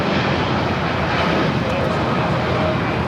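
An airliner rolls for takeoff on runway 25 right at Los Angeles International Airport, a steady loud broadband engine roar that holds evenly through the whole stretch with no break.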